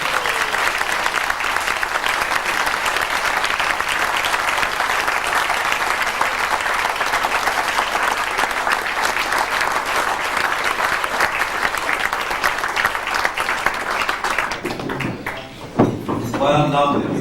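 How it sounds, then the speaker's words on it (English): A continuous, loud round of applause from guests at a golden wedding celebration carries on for about fourteen seconds, then stops abruptly as a voice begins speaking. "a big round of applause, please, for the jet setters"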